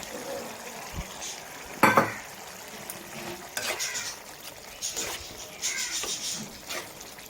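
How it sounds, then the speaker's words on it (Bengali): Fried prawns are stirred into a boiling curry in a pan for Bengali chingri jhal, giving close soft stirring and scraping over a low bubbling simmer, with a sharper clatter of utensil against pan near the two-second mark. "ফুটে উঠেছে, এর মধ্যে ভাজা চিংড়ি মাছগুলো দিয়ে দেবো।"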